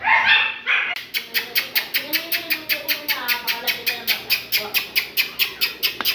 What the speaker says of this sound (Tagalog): Nagwawala na yung mga aso ko.